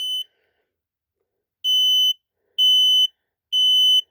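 Kidde model 0916 smoke alarm sounding, sharp piercing high-pitched beeps in a repeating pattern of long tones separated by short silences, loud and close with nothing else audible.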